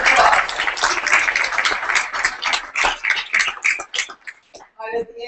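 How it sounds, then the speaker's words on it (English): Audience applause at a WTA tennis address, a sustained wash of clapping that tapers off into a few scattered claps before a voice starts speaking. "Let's give a round of applause."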